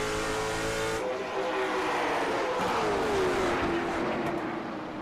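Late model race cars roaring around North Wilkesboro Speedway in a racing sim, a steady loud engine howl with a rising and falling pitch as a car passes, under a commentator's voice.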